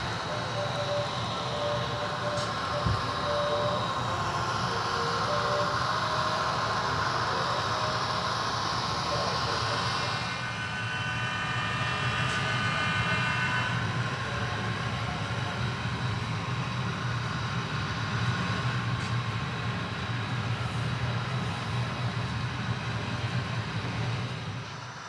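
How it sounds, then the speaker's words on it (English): An HO scale model train runs across a DCC model railroad layout, a faint steady rolling rumble and hum that carries on at a distance for the whole stretch, with no talking. "Train number 17, the westbound California Zephyr, passes us on a detour heading to Stockton."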